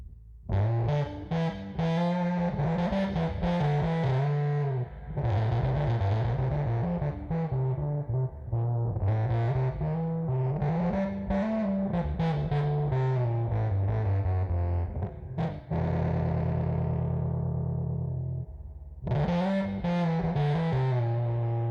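A Gibson EB-0 bass guitar through diode distortion plays a riff of loud, continuous, buzzing notes with sustained chords near the end and brief pauses between phrases.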